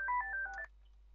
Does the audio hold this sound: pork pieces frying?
no